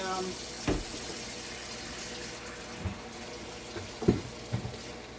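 A pot being rinsed under a running kitchen tap before frying apple fritters, with a steady stream of water and a few dull knocks of the pot against the sink.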